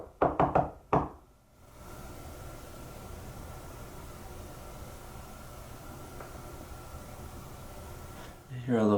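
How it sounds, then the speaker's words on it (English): Several sharp knocks close together sound at the start of a basement space, then a steady low hum of room noise fills the rest with a brief rustle near the end. "After this distant, unexplained knock"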